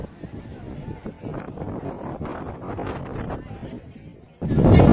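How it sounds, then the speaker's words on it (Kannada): Strong wind at an apartment complex during a housewarming, gusting and buffeting against the microphone in uneven rushes, ending in a sudden loud blast. "ಫುಲ್ ಗಾಳಿ, ಎಷ್ಟು ಗಾಳಿ ಅಂದ್ರೆ"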